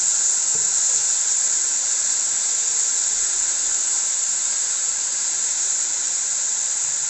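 Ginger, garlic and green chili paste fries with onions in a pan, making a continuous, steady hiss that runs evenly throughout without pauses or voices.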